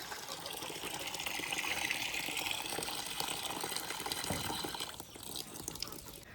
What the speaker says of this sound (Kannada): ನೀರು ತುಂಬಿಸ್ದೆ